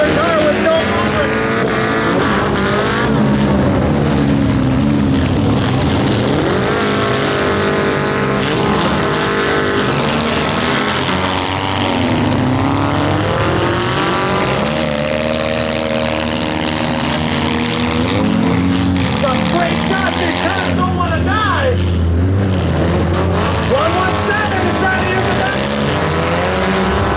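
Demolition derby cars growl and rev in an arena, a loud, continuous, shifting engine roar with rough surges throughout.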